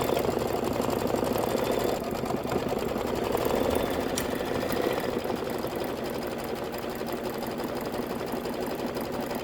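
An embroidery machine stitching the rear posts of a cart design, a steady rapid mechanical chatter of needle strokes at a constant pace, close and continuous with no talk.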